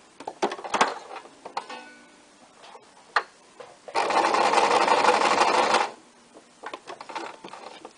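A sewing machine stitches at thread tension setting 3, a fast rattling run of about two seconds framed by scattered clicks and handling taps before and after.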